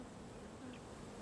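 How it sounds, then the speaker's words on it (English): Bees buzzing around flowers, a soft steady drone of insect wings that holds evenly through the short moment with no voices. "Now, there were bees."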